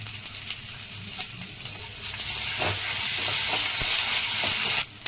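Tomato puree with green chillies and ginger-garlic paste fries for fish biryani, a steady loud sizzle and hiss that swells slightly, with faint stirring scrapes, ending in a brief clatter.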